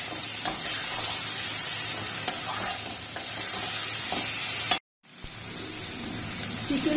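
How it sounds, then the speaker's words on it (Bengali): Chicken sizzles in a pan with onions while being stirred, a steady frying hiss marked by occasional spatula scrapes, then it cuts out abruptly and resumes more quietly. "চিকেনটা দিয়ে ভালো করে অল্প আছে এটাকে কষাবো।"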